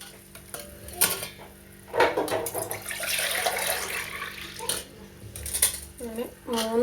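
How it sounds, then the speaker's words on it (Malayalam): Water poured into a pot of rice for Malappuram-style coconut rice, with splashing and the clatter of metal vessels and utensils in a kitchen, close and intermittent. "അങ്ങനെ 3 കപ്പ് വെള്ളമാണ് നമ്മൾ ഒഴിച്ചിരിക്കുന്നത്."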